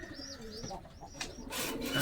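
Pigeons in a loft give soft cooing calls mixed with a few brief higher chirps, close by and short, followed by a burst of rustling noise.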